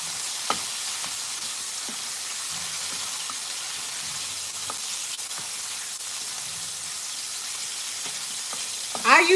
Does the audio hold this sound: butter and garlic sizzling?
yes